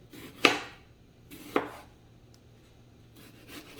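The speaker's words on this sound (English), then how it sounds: "So I'm just gonna cut my tomatoes, my onion," A knife cuts through soft, previously frozen tomatoes and onion for a Mexican beef soup, two distinct close chopping strokes about a second apart, then quiet light rustling.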